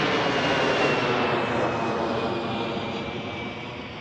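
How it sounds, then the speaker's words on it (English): A fixed-wing airliner takes off from Washington Reagan National Airport, its loud, broad jet-engine roar sustained and even, fading only slightly as it climbs away. "I think I hear another plane taking off"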